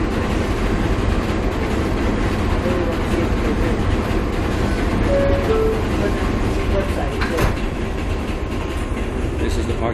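An R188 7 local subway train in New York runs toward Manhattan, its steady low rumble and wheel noise filling the car throughout, with a brief clatter near the end and faint voices underneath.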